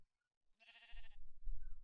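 A single sheep bleats in Minecraft 1.8.7, a short wavering call, clear but fairly quiet, followed by low rumbling in-game noise.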